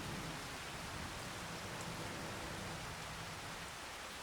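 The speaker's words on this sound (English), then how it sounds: "it's raining pretty good here" Steady rain falls in the Farming Simulator video game on a Montana farm map, a constant broadband hiss that holds at an even level for the whole stretch with no voices over it.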